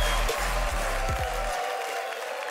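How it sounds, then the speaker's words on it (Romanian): A studio audience applauds at a televised stand-up comedy talent show in Romania. The steady, dense clapping runs throughout, with music playing underneath for the first part. "Doamnelor și domnilor, aplauze pentru Bogdan Călin!"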